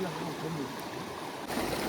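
The Ganges river flows steadily nearby, a soft continuous wash of water with faint low speech underneath.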